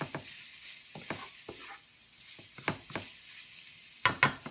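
Beef stir-frying in sesame oil for a keto crack slaw, with a soft, steady sizzle broken by several sharp scrapes and clanks of a utensil stirring the meat, the loudest coming near the end.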